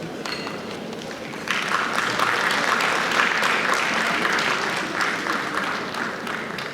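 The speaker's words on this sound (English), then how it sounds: "Kindly applause as she's coming up." A short quiet lead-in gives way to a crowd at a women's gathering in Nigeria breaking into loud, full applause that continues steadily for about five seconds, dense clapping with no speech over it.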